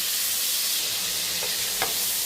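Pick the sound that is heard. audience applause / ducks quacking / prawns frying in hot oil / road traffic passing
prawns frying in hot oil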